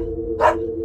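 A single short dog bark sounds near and clear, standing out against a steady low hum in an otherwise quiet room.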